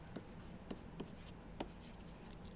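Chalk or marker taps and scratches faintly as an equation goes up on a lecture board, a handful of brief, soft strokes spaced irregularly over a quiet room hum.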